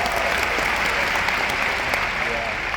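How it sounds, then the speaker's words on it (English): Thunderous applause from a packed arena audience at the Disney D23 showcase, continuous dense clapping with scattered cheers throughout. "How about another round of applause for Bruce and all of our Disney legends?"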